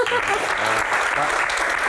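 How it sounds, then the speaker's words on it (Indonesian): An audience at a question-and-answer event breaks into dense, continuous applause, close and fairly loud, with voices mixed in beneath the clapping. "Oke, tepuk tangan dong."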